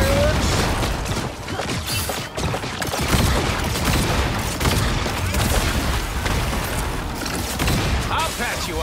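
Dense, continuous bursts of explosive gunfire and booms in the Marvel Rivals video game, loud and chaotic throughout with overlapping impacts and a voice in the mix.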